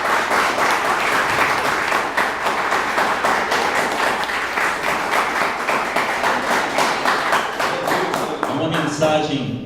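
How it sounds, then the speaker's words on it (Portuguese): A church congregation applauds together during a Portuguese-language service, steady dense clapping that holds loud and even for nearly ten seconds before fading out. "Vamos dar uma salva de palmas ao Senhor Jesus."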